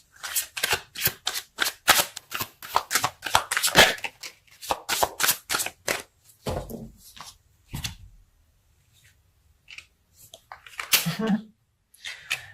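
Tarot cards are shuffled and handled in a quick series of sharp riffling slaps and snaps, close and crisp, thinning into sparse taps and brief rustles after a few seconds.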